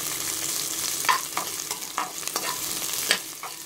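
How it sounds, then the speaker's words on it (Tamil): Onions with a pinch of salt fry in a pan over medium flame, a soft steady sizzle broken by scattered scraping clicks of a spoon stirring, close and fairly quiet. "கொஞ்சோண்டு சால் போட்டு அப்போ தான் சீக்கிரமாக வெங்காயம் வதங்கி மீடியம் ஃப்ளேமில் வச்சுட்டு நீங்கள் வதக்கணும்."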